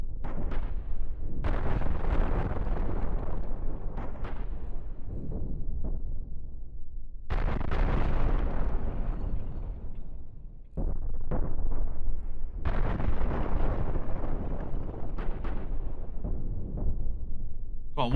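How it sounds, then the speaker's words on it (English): Ammunition explosions in the space combat game Cosmoteer, several heavy booming blasts with long rumbling decays, each rolling into the next, loud and dense. "Ammo does explode."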